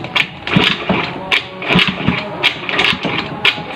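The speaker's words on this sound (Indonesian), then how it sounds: "Kita engkol dulu." Kick-starting an old carburetted Honda Beat scooter that had sat unused for a long time, a close, loud run of uneven mechanical cranking thumps and sputters repeating in bursts.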